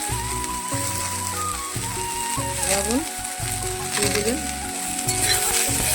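Soybeans with turmeric sizzling and frying in hot oil in a pan, a steady crackling hiss running throughout with occasional stirring, close and fairly loud, with no talk over it.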